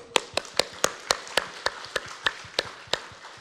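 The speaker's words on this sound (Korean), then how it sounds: "근데 우리 아이들은 벌써 말했으니 또다시 박수" A congregation claps in a crisp, regular rhythm during a Sunday church service, about a dozen sharp, close hand claps evenly spaced over a few seconds with no talking on top.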